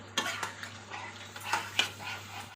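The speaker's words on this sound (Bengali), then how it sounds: "আর যাতে মশলাটা পুড়ে না যায় ওতে সামান্য জল দিয়ে দেবো একটু নেড়ে দেবো" Garam masala with a splash of water is stirred in a pan for an egg chicken roll filling, soft scraping and clinks of a spoon against metal over a faint sizzle, in scattered strokes.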